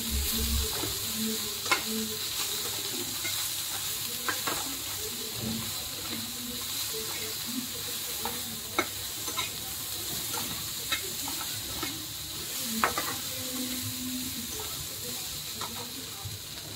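Sabudana and bhagar batter being stirred and mixed in a bowl for upwas ghavane, a soft wet stirring with scattered clicks of the spoon against the bowl, close and steady, with faint background hiss.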